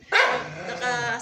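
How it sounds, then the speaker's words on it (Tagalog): A single sharp, startled bark from a pet dog, loud and close, with a short tonal tail. "Ang gulat ko sa aso"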